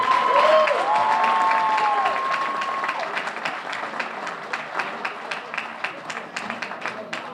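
Audience applause at the Revere Chamber of Commerce awards for Dandee Donuts, a sustained round of clapping from a crowded room that starts under a voice and tapers into separate claps.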